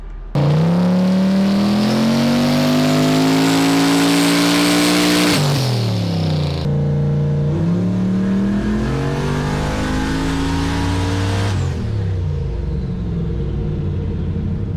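Turbo E85 engine on Holley EFI, running without an intercooler, revving during tuning: a loud, close engine roar rises under sustained throttle, dips as revs fall, then climbs again and settles, continuous and with no talking.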